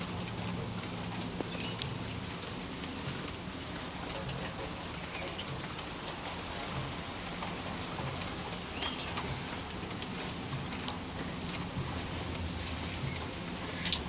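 Steady rain falls outdoors on a rainy day, a continuous even hiss and patter that runs unbroken from start to end at a moderate, close level with no talking.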